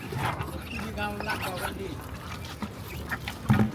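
Ducks crowd together on a rooftop as food is poured out, with scattered quacks and bird calls under steady human talk and a fairly loud, busy background.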